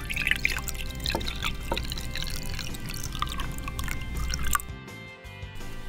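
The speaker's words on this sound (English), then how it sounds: "we're going to pour some hot water into this cup" Hot water poured into a cup, a steady liquid trickle and splash running for several seconds before stopping abruptly, with only faint room tone afterward.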